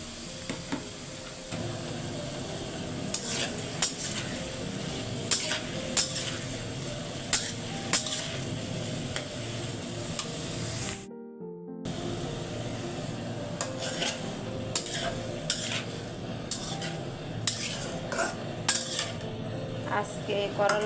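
A metal spatula clatters and scrapes steadily against a pan as bitter gourd and potato fry with salt, turmeric and green chili. The near, continuous utensil noise masks any faint sizzle and drops out briefly midway.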